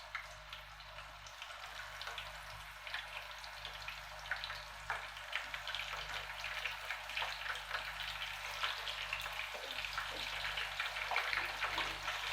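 Chicken sausages fry in a hot pan on a stove, giving a steady, soft, continuous sizzle with faint crackling throughout and no talking.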